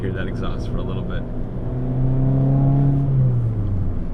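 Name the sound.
Fiat 500 Pop exhaust while driving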